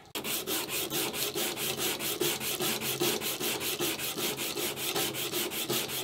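Rhythmic back-and-forth strokes of 80 grit sandpaper on an axe, about four per second, rasping steadily and up close for several seconds.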